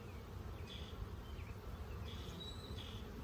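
Honeybees buzzing steadily at a low volume during a hive inspection, with a few higher whining passes as individual insects fly close; no talking.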